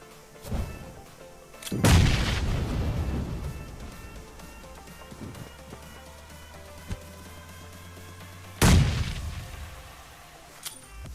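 Grenades go off in the FOJI shooting game: two loud, broad booms about seven seconds apart, each trailing into a long rumbling decay, with faint game ambience and a low steady hum between them.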